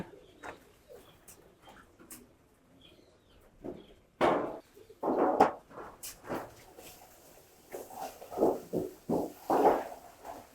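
Racing pigeons at a rooftop loft cooing in soft, low repeated calls with wing flutters, faint at first and growing denser and closer toward the end, no talking.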